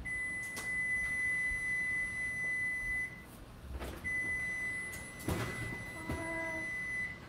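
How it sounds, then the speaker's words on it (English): An oven timer gives a long electronic beep, pauses, beeps again, then ends with a few short chirps, faint against quiet kitchen room tone. "my timer's gonna go off, yeah, any second now"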